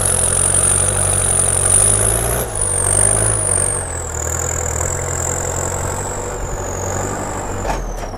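A used vehicle with a small turbo and wet air filter runs in second high gear, a steady, loud engine drone topped by a high turbo whine that slowly drops in pitch.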